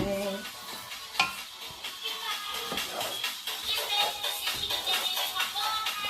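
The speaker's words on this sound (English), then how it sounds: "Now we'll just have to do a little bit of mixing." Jollof rice being mixed in a cooking pot, a steady scraping stir with soft sizzling and occasional clinks of utensil on metal, close by, with faint voices in the background.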